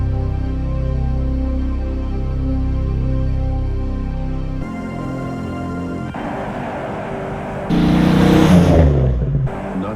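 A Ford Mustang GT with a 5-liter port fuel-injected V8 revving and accelerating hard, loud and close, its engine note rising through gear changes amid music and a brief tire squeal.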